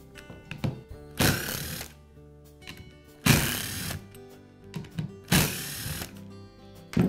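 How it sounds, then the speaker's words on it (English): Work on a Metabo angle grinder to remove its motor housings gives a handful of short mechanical clicks and three louder bursts of rattling, whirring tool noise, all close by, with quiet gaps between them. "I'll begin by removing the motor housings from the grinder."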